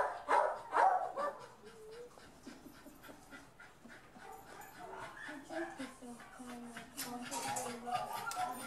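Several dogs in shelter kennels bark, yip and whimper continuously at moderate distance, with panting and the occasional clank mixed in, while a person talks over the noise.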